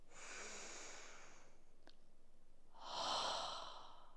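Slow breaths during a seated meditation practice: a long soft exhale fading out, a pause, then a fuller, louder breath near the end, close and alone with no talking.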